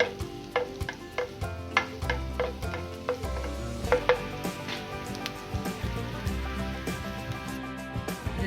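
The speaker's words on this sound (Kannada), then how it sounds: "ಇದನ್ನ ಚೆನ್ನಾಗಿ ಫ್ರೈ ಮಾಡಬೇಕು." Paneer pieces fry in oil in a pan while a spatula stirs them, producing a steady close sizzle broken by repeated scraping strokes against the metal at an irregular rhythm, with no talking.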